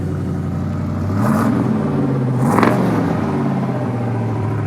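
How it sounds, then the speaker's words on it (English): A turquoise 1967 Pontiac GTO muscle car revs through its dual exhaust, a steady rumbling idle rising into two throaty blips of the throttle before settling back, close and fairly loud with no talking. "Really nice sounding dual exhaust, just sounds pure."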